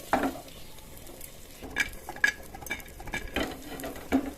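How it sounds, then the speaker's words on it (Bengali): Cashews, raisins and split cardamom fry gently in ghee, a low sizzle broken by metal spoon clinks and scrapes against the pan at irregular intervals. "এলাচের মুখটা ফাটিয়ে নিয়েছি, ঘিয়ের মধ্যে দিয়ে দেবো। ভেজে নেব ঘিয়েতে"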